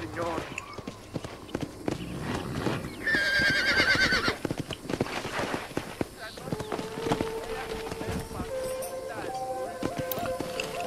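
In Red Dead Redemption, a horse gives one loud, clear whinny partway through while hooves clip-clop and thud around it. Someone talks over the scene.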